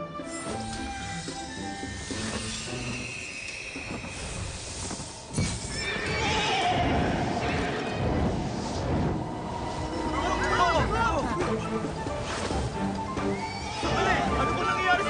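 A horse whinnies and its hooves clip-clop repeatedly, fairly close and loud, mixed with busy background sounds and people talking.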